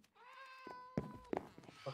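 Cat meows in a Minecraft-style video game, several short tonal calls rising and falling with clear harmonics, close and moderately loud, separated by brief thumps and game noise.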